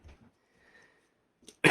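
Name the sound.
cough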